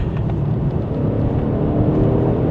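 A 2016 Mercedes S63 AMG engine roars steadily and loudly throughout, a dense low rumble of hard acceleration from a launch without a break.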